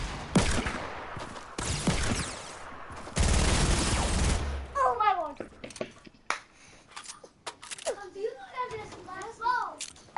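Loud bursts of video game gunfire from a shotgun and an RPG hit in quick blasts, followed by excited young voices talking over the game sounds.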